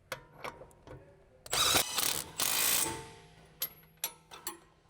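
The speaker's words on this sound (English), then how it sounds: "Use a 17mm wrench, large 19mm deep socket with the large electric impact wrench." A large electric impact wrench with a 19mm deep socket tightening the front coilover-to-knuckle retaining bolt on a 2019 Mazda 3 sedan, with two loud bursts of rattling hammering amid clicks and ratcheting clanks.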